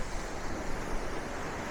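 Waves wash steadily onto the shore at a seaside campsite, a constant broad surf roar with some wind and no voices.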